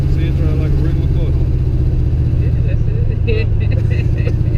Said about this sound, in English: See it driving like a regular car.